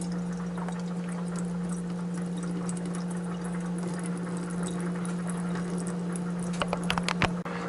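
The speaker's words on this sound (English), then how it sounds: "Gotta drain the black beans." Canned black beans draining, a steady watery pour and patter running continuously at moderate level over a low hum, with a few sharper splashes near the end.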